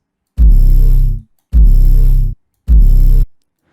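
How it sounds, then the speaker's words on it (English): Three heavy 808 bass drum hits, each a booming low sustained tone lasting under a second, evenly spaced with short silences between. "This is an 808 from my kit."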